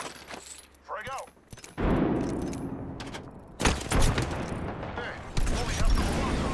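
Gunfire in the VR space-combat game Valkyrie, with bursts of rapid shots and impacts from about two seconds on, loud and dense, mixed with engine roar and explosions, plus a brief voice early on.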